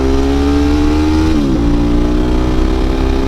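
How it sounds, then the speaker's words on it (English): A motorcycle engine runs loudly and continuously while being ridden, its steady drone dipping briefly in pitch partway through as if shifting gear, then settling back to a constant hum. "I absolutely love riding this bike"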